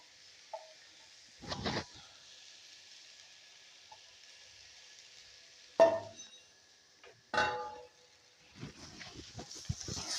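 Jaggery goes into a homemade mixture in a pot, heard as a few separate soft thuds and scrapes spaced out over several seconds against near silence.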